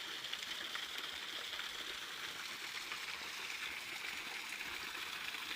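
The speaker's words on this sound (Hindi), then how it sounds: "अब हम आए हैं एक चश्मे पर।" Steady broadband rush of a spring-fed stream flowing outdoors in Haripur, Pakistan, continuous and even throughout with no voices, a soft constant wash of moving water.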